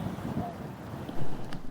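Desert wind buffets an outdoor microphone in a low, steady rumble with gusty swells, loud and close, over a short stretch.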